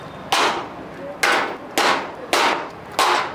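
A hammer strikes a Chinese-made padlock five times in an even rhythm, each blow a sharp, close metallic knock with a short ring, alone without talk.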